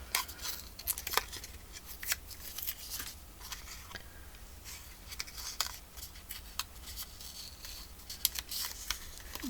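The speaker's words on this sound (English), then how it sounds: "So I'm just going to tear this stuff off there." Paper being torn by hand from a woodland party journal page, a run of crisp rips and crinkles scattered through the quiet, close and fairly soft, with no talking.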